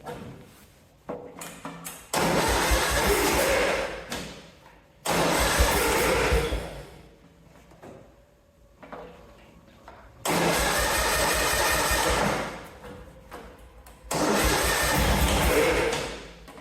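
A lawnmower engine is pulled with its recoil starter, and several loud bursts of cranking and sputtering roar up and die off, with quiet gaps and faint mechanical handling between attempts.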